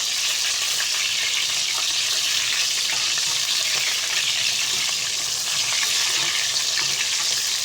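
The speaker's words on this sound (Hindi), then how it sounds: "अब बैंगन इस तरीके से देखिए इस पकने फ्राई होना शुरू हो चुका है" Eggplant slices fry steadily in a pan of oil, a loud, dense, continuous sizzle and crackle close by for several seconds with no voices.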